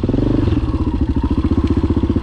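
A 1991 Yamaha XT600 motorcycle engine idles close by with a steady, rapid single-cylinder thumping and mechanical clatter, loud and alone throughout.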